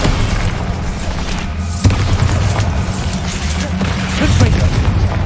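Bombarda spell blasts in Hogwarts Legacy, heavy booming explosions merged into a loud, continuous roar of combat noise with a sharper hit partway through, voices faintly mixed in.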